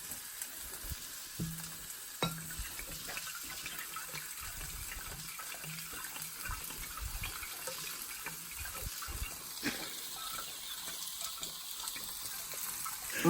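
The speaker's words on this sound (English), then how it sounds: "That is sizzling." Vegetables and beef sizzle steadily in a frying pan, a quiet, constant hiss with occasional clinks and stirring sounds.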